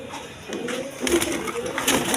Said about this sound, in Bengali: দেখেন ছটপট করে কীরকম কবুতর